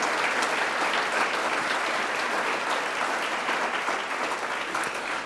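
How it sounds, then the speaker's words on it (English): Dense, steady applause from a large audience fills an awards ceremony honoring police officers, sustained and even throughout with no talk over it. "another big round of applause for Greg McCourt"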